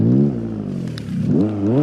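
Toyota AE86 Levin Rally Edition with its non-turbocharged engine in BeamNG.Drive, heard as a steady rev that dips slightly and then climbs again, loud and close, with no talk over it.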